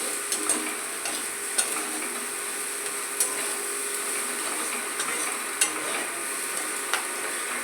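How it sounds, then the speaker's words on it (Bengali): Poppy seeds and salt fry in a pan with boiled vegetables for a Bengali dish, a steady close sizzle punctuated by regular light ticking taps of a spatula stirring, with no voices. "পোস্ত দিলাম, দিয়ে ভেজে নিচ্ছি।"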